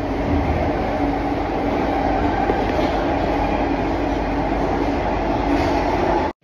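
Singapore underground metro train running, a loud steady broadband rumble and rattle of the rail car throughout, with faint rhythmic wheel clatter and no talk, cutting off abruptly at the end.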